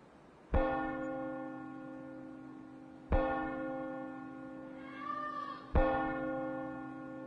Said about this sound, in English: At the very top hung a huge bronze bell that was tolling now.